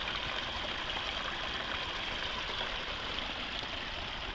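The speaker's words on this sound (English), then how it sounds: "I hope you can hear that gurgling. That is the beautiful tones of the babbling brook." A babbling brook on a rural property in Stanardsville, Virginia, a steady, close rushing gurgle of flowing water that continues unbroken without any voices.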